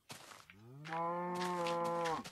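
A baby cow in Minecraft moos once, a clear, fairly quiet drawn-out bleat lasting over a second after a couple of short soft scuffs, heard alone without talk.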